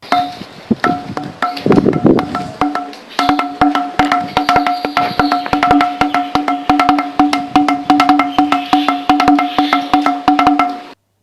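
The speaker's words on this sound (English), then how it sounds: "Now, if you tap this, you will hear the sound of these drums." Fast, repeated taps on a stone pillar ring with a hollow, pitched resonance like small drums, in a quick, steady rhythm that continues without speech.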